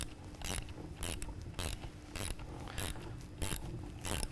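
Bolts tightened on the end plate of a Tilmor basket weeder, heard as a series of regular ratcheting bursts about every half second, close and loud, with no talking.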